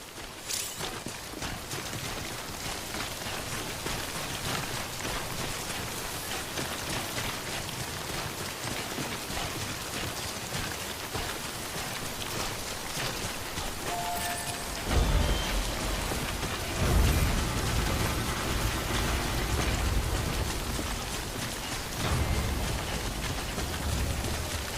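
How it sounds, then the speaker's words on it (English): Steady rain falling in the video game Death Stranding, a continuous dense patter with a heavier, louder surge partway through, no voices. "Don't stay out in the rain any longer than you have to"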